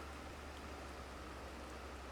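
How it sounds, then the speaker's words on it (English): Steady, soft rain hissing evenly across a Farming Simulator 22 farm field, a continuous wash of drops with no other sound. "as you can see, it's very rainy"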